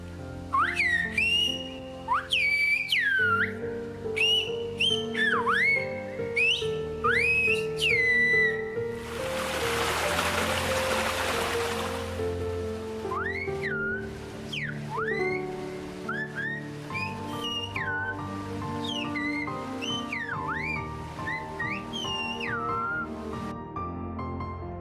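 Silbo Gomero, the whistled language of La Gomera used in Valle Gran Rey, carried by clear sliding whistles in rapid phrases, with a burst of broadband noise midway and more whistled phrases after, over a sustained tonal background.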